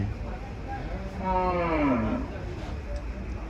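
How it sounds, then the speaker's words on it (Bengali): Kushtia cattle, red and black, at a livestock market, one drawn-out low moo rising and falling in pitch over steady crowd murmur, fairly close. "কুষ্টিয়ার গরু"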